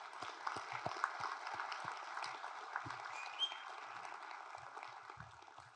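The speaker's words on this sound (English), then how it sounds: "Let's give them all a round of applause." Audience applause at a conference keynote, a steady wash of many hands clapping at moderate distance that holds evenly through the clip, with a few louder individual claps standing out.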